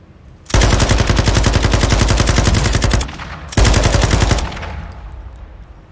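Light machine gun in a video game firing two long sustained bursts of rapid, evenly spaced shots, loud and close, separated by a short pause and followed by a fading echo tail.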